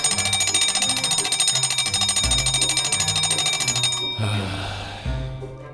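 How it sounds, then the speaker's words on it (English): An alarm clock rings loudly with a rapid metallic trill, continuing for several seconds before breaking off and starting again. "Just then, the alarm rings."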